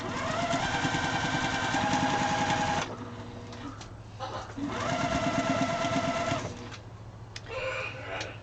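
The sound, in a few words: sewing machine stitching fabric scraps together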